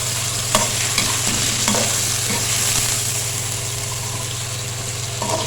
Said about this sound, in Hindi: और इसको अदरक लहसुन के साथ भूनेंगे।